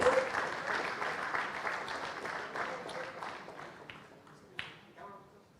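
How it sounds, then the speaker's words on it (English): An audience at a managerial excellence awards ceremony applauds an award recipient, a dense wash of clapping that starts loud and gradually thins and fades, with a few louder isolated claps near the end. "give them a big round of applause"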